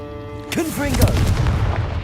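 A Confringo blasting curse detonates in the Hogwarts Legacy video game, a sharp booming burst followed by a rumbling tail, with a shouted spell voice just before and over the blast.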